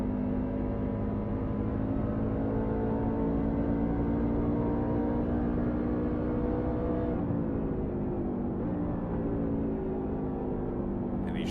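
A racing truck engine drones on track during an NSR truck race, a loud sustained whine with steady harmonics that dips and shifts pitch partway through, heard alone without talk.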